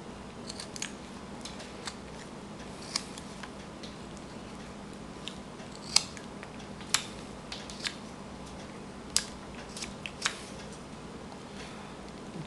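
A knife whittling a wooden carving knife handle: faint, close, scraping cuts with small sharp snicks at irregular intervals over a low steady background.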